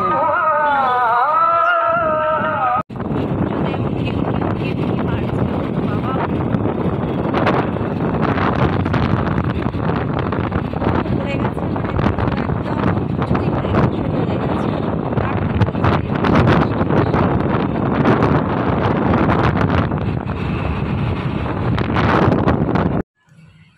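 Strong wind roars steadily over the microphone while riding home on a vehicle, a continuous loud rushing that fills nearly the whole stretch after a brief opening moment and cuts off abruptly near the end.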